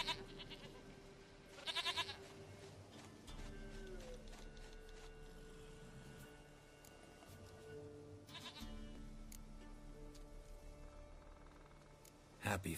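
A goat bleating in The Witcher 3, with a couple of short bleats near and distinct over a low mechanical game ambience, alongside spoken dialogue.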